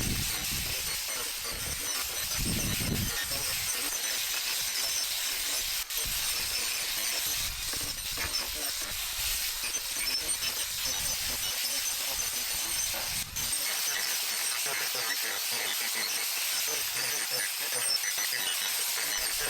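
Power tool fitted with a carving disc sculpting the edge of a wood slab, an ongoing rough grinding and rasping with uneven bursts and shifts in load, fairly loud and close.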